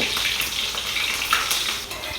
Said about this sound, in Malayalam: ആദ്യമേ ഉള്ളി ആ പ്രൊസീജിയറൊക്കെ നമ്മുടെ നാട്ടിൽ അല്ലേ ഉള്ളി മുപ്പിച്ചെടുക്കുന്നു